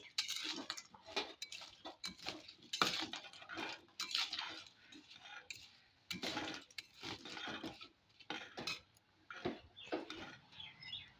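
Steamed amla dropped into a wok, giving a run of close clinks and metallic clatters from the pan and utensils, irregular bursts over about eleven seconds with no talking.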